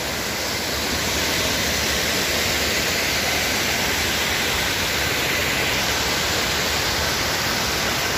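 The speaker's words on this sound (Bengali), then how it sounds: "ভেতর থেকে এভাবে জলটা আসছে," Machkanda waterfall on Ajodhya Hill in Purulia pours in a steady, loud, broadband rush of falling water, continuous and close throughout with no voices over it.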